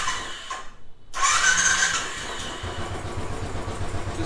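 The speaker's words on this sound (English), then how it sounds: "So this is the sound of the stock exhaust." A Royal Enfield Classic 500 motorcycle with its stock exhaust starts up after a short silence and settles into a steady, close idle with a low, even thump, no talking.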